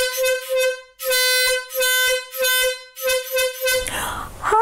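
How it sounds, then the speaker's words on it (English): Loud air horn blasts sound in a series of four to five long, harmonically rich honks with brief gaps between them, ending in a noisy burst of clatter. "I hear an air horn"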